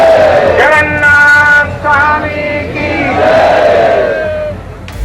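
A large fair crowd at the Jagannathpur Mela shouts together while pulling the Jagannath chariot, loud rising and falling chants in waves, close and sustained.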